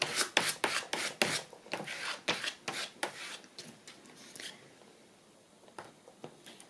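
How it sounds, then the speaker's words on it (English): A paper card being smoothed flat by hand during a paper craft, giving a run of close, rhythmic rubbing strokes that slow and fade toward the end. "Just get my little card, smooth it out."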